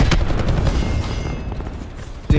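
A cluster grenade goes off in the shooter Call of Duty: Black Ops 4, giving a rolling chain of rumbling blasts and crackling bursts that ends in one last loud thump.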